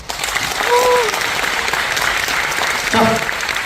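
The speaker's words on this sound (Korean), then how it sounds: "박수 한번 주세요" A festival crowd claps for a guest at a 7080 DJ culture show, a short burst of applause under faint stray voices and a brief tonal sound.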